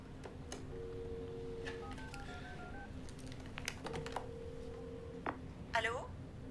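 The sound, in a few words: telephone number being dialed to return a call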